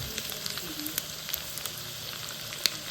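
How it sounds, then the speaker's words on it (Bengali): Chicken popcorn frying in oil over a high flame in a mini kitchen: a steady, close crackling sizzle with scattered sharp pops, one louder spit near the end. "এগুলো এক সাইড মোটামুটি ভাজা হয়েও এসছে, মোটামুটি না ভালোই ভাজা হয়ে এসছে"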